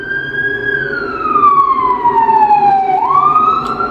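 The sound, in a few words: siren passing outside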